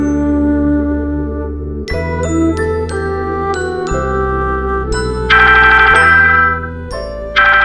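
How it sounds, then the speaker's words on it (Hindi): A mobile phone plays a loud, close melodic ringtone of bright chiming notes in repeated phrases, with no voices. "आयुष का फोन आया है, आओ जल्दी आओ"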